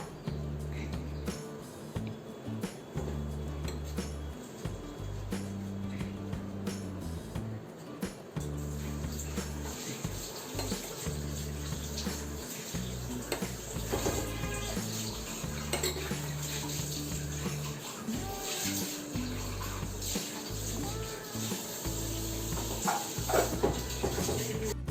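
Warm melted jaggery syrup poured into rice flour and stirred by hand for a Kerala rice snack, with steady clinking and scraping of utensils against a bowl over a continuous low background hum.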